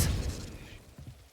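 Expelliarmus spell effect from Hogwarts Legacy, a short burst opening with a bright crackling shatter that quickly decays into a low rumbling tail over about a second.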